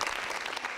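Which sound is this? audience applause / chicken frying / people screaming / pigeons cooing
audience applause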